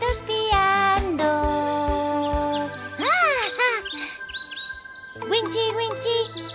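Little cartoon birds chirping in a children's animated song about climbing a mountain, a few rising and falling tweets over bouncy music.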